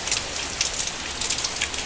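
Steady rain pattering on a surface, a dense continuous hiss with small bursts of heavier drops, fairly close and with no voices.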